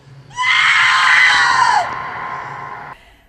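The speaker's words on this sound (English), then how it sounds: "screams that are more operatic" Operatic, high sustained scream made for a Texas Chainsaw Massacre 2 horror film, one loud drawn-out wail that bends downward near its end before cutting off, heard alone and close.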